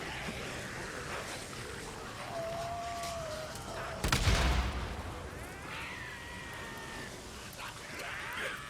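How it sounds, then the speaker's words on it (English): Frag grenade blasts and gunfire in the zombie-horde game Days Gone: a heavy explosion bursts out midway amid ongoing rattling combat noise and swelling, whining horde sounds, with no talk heard. "then I'm going to start to hit them hard with frag grenades"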